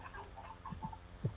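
Chickens clucking in a farming and cooking video game, a few short soft clucks near the end over a steady low background hum, with no talk.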